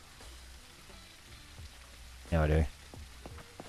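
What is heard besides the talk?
rain in the video game Surroundead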